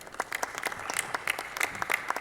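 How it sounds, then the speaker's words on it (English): An audience claps for a guest at a session, scattered sharp handclaps forming moderate applause of uneven density, fairly close and with no talk over it. "a special round of applause"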